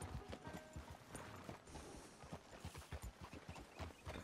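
Horse hooves clip-clop in a steady rapid rhythm in Red Dead Redemption 2, a close, continuous trot of repeated thuds over faint background ambience.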